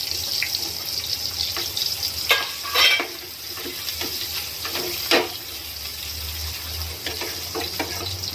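Diced potatoes frying in oil for sabudana khichdi, with a steady loud sizzle and a few sharper bursts as the pieces are stirred in the pan.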